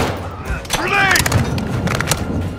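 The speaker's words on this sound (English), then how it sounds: "Grenade!" A grenade detonating in the Modern Warfare II campaign, a loud, close, thudding burst with rumbling debris amid chaotic combat noise, with a voice shouting briefly just before.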